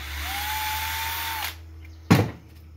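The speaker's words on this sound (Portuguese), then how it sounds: "Se vocês não tiverem a serra fita, vocês podem estar usando a tico-tico." Power jigsaw (tico-tico) cutting, a loud steady motor whine for about a second and a half, then it stops and a sharp knock follows as the workpiece is set down.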